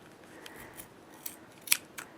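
Scissors snip yarn on a Clover pom-pom maker: a few short, crisp cuts spaced irregularly, with the sharpest one near the end, close and quiet against a hushed background.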